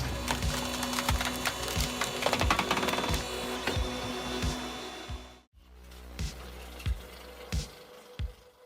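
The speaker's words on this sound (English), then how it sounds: "the log is pushed into the splitting wedge frame with a large hydraulic arm, producing continuous pieces of firewood" A hydraulic firewood processor drives a log through a splitting wedge frame: a constant loud machine drone with regular heavy cracking and splintering thuds about every half second, briefly dropping out before resuming, with no talk.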